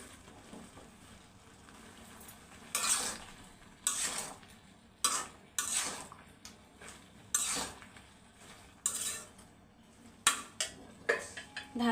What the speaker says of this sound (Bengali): এখন সবজিগুলোকে ভালো করে কষিয়ে নিব।